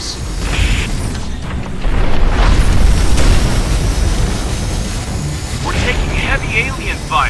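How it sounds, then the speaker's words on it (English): Heavy alien fire in the strategy shooter X-Morph Defense explodes in a dense, continuous barrage of booming blasts and rumbling impacts, loud and close, with game voice announcements over the top. "We're taking heavy alien fire."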